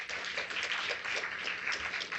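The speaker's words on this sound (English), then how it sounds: "let's give them and everyone in between a big round of applause" A crowd applauds at a SUNY Downstate occupational therapy 60th anniversary celebration, an even wash of many hands clapping, fairly soft and continuous throughout.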